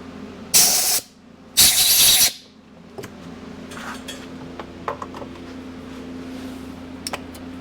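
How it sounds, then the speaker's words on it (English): Grinder taken to leftover weld inside the intake port of a 1978 Suzuki RM250 cylinder: two short harsh bursts of about half a second each, followed by quieter scraping and handling noises close by. "grinding on the intake port"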